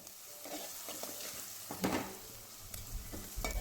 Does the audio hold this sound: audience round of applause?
no